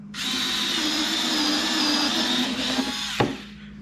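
A Ryobi cordless screwdriver whines steadily as it drills into wood, a continuous close motor hum ending with a brief clunk near the finish.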